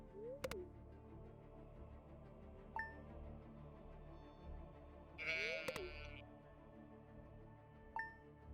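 Sheep bleat a few times in a video game, each call short, wavering and fairly faint, with a brief game chime and light background tones between the calls.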